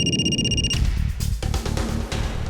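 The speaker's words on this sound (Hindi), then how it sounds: "सर, आशा के ससुर का फोन है।" A steady electronic telephone ring with bright tones in the opening moment, then low thumping and clatter take over for the rest.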